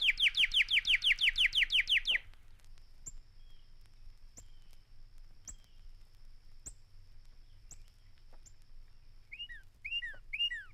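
A cardinal sings a rapid series of bright, clear whistled notes on a recording, then sparse faint chirps over quiet, and a few sweeping whistles near the end.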